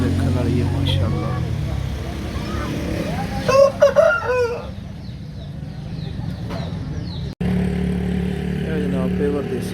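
Desi roosters crow amid clucking fowl at a poultry sale in Punjab, a noisy outdoor setting, with engine hum and people talking in the background.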